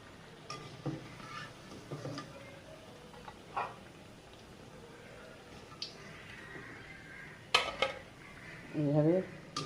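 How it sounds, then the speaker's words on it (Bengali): Spatula and utensil clinks as fried red spinach chops are lifted from a pan, with scattered scraping knocks and a faint sizzle underneath, quiet and close. "ভাজা হয়ে গেছে, এবার আমি তুলে নেব।"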